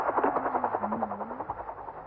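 A helicopter, heard from a 1983 French treasure-hunt show, gives off a faint rhythmic rotor chop with pulsing beats and a low wavering engine tone.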